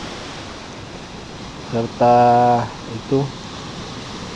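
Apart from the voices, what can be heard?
ocean waves breaking on the beach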